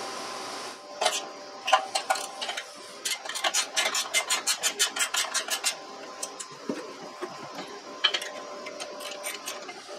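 A cable comes off a Scag Tiger Cub mower in a burst of quick, close mechanical clicks and rattles that bunch into a rapid run, then go sparse with a few more clicks near the end.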